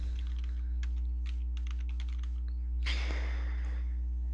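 Rapid keystrokes on a computer keyboard as a password is entered, a steady run of light clicks followed by a brief louder burst of key noise over a constant low electrical hum.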